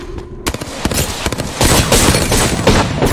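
Rapid bursts of automatic gunfire and single shots in a shooter video game, loud and close, firing in quick succession with overlapping cracks throughout.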